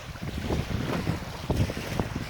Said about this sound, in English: because now I'm at the ocean